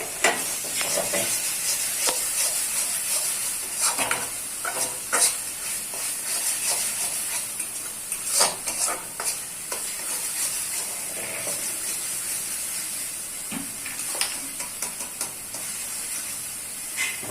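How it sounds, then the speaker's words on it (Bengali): Spice paste for a Bengali parshe fish curry frying in a pan with salt and sugar, a continuous hiss and sizzle broken by repeated scraping stirs and a few sharp clicks, close by with no talking. "নুনটাকে মশলার সাথে নাড়াচাড়া করে ভালো করে মিশিয়ে নিয়ে দিয়ে দেবো অল্প চিনি।"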